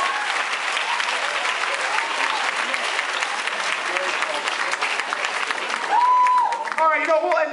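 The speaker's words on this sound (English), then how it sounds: "Give these guys a round of applause." Audience applause at a college frosh week improv comedy show, dense sustained clapping from a crowd that carries on steadily, with a voice and whoops rising near the end.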